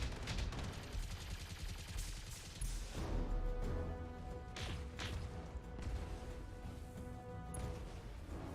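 Turret gunfire in the mech combat video game Battletech, dense sustained volleys of shots and explosive thuds forming a continuous loud barrage with no pauses, no voices.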